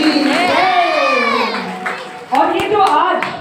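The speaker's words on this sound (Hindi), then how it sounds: "एक बार जोरदार पुनः ताली उनके लिए बोलिए भागवत भगवान की।" A crowd at a Bhagwat Katha honours ceremony claps and cheers loudly, with children's voices shouting and a near voice calling out over the applause, which surges again after a brief dip.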